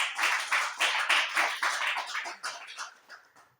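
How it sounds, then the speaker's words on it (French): A church congregation claps in rhythmic praise during prayer, with steady, even beats that gradually fade toward the end. "Applaudis pour le Seigneur."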